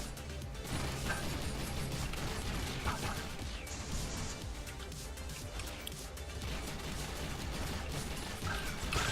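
Gunfire against enemies in the shooter Hypergun, a dense, continuous clatter of shots, impacts and mechanical effects under game noise, loud and unbroken throughout, with faint talk mixed in.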